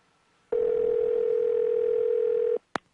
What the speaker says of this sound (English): Laura, could you pick up the phone, please?